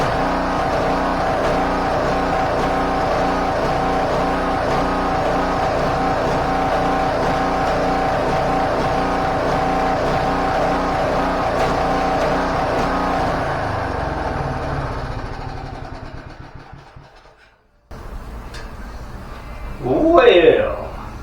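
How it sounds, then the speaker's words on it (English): A Swisher trail mower engine, freshly running after a carburetor cleaning, drones loudly and steadily up close, then winds down and cuts out, followed by a short, different burst of noise. "So I finally got it to fire off by cleaning the carburetor"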